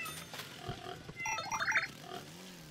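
Pigs in the farming game Farm Frenzy 4 give a few short grunting oinks and squeals, close and moderately loud, over quiet game sounds with no talk.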